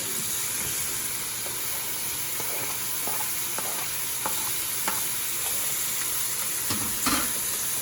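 Chopped habanero pepper, tomato and bay leaf for an oxtail stew are stirred in a cooking pot, giving soft scrapes and occasional clinks of the spoon against the pot over a steady background sizzle and hiss.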